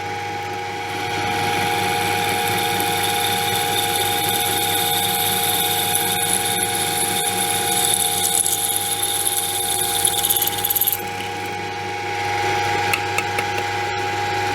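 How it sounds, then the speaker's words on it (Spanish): A masonry drill bit bores a hole through a tempered steel saw blade, giving a steady, loud mechanical whine with a sustained grinding buzz that runs almost unbroken for the whole stretch, with no talk. "estamos taladrando una hoja de acero templada. Cuidado, una hoja de acero templada, con una broca de hacer agujeros en la pared."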